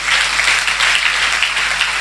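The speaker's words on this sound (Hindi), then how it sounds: "अभी आपने तालियां बजाई" Audience applause fills a church gathering, dense and steady clapping throughout, loud and continuous with no voices over it.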